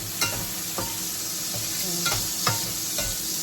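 Food frying in a pan gives off a steady close sizzle, and short utensil knocks and scrapes come at irregular intervals.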